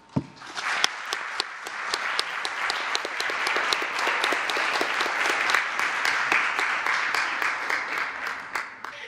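An audience at the COP24 climate conference gives Greta Thunberg sustained applause, dense clapping that swells quickly, holds steady for several seconds and fades, with some sharp individual claps near the start.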